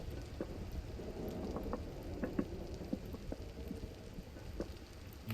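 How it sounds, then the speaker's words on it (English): Steady rain falling outside in the video game Vintage Story, a soft, continuous patter with scattered droplet ticks and a low rumbling wash underneath, quiet and even throughout. "listen to that rain outside, man"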